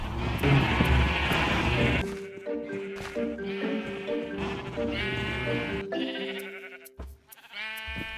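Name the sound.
sheep bleating in video game Minecraft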